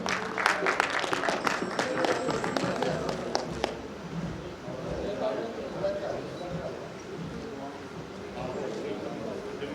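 Applause at a literary gathering at the Lahore Arts Council: a burst of crowd clapping for the first few seconds, then someone speaking in a hall while the clapping fades out.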